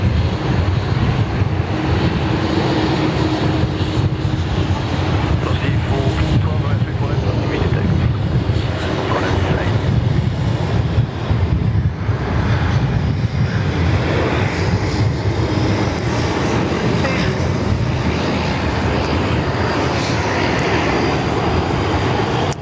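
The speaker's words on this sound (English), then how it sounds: "Here we go, the Qantas Dash 8" A Qantas Dash 8 turboprop rumbles loudly and steadily near a Sydney Airport runway, its engine roar filling the scene without pause.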